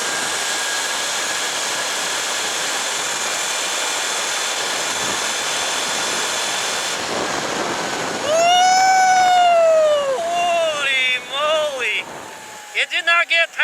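Sur Ron Light Bee electric dirt bike at wide open throttle, fitted with a KO factory motor and controller, whining steadily under wind rush before the pitch climbs sharply and wavers through several surges, close and loud, with a rider's voice talking.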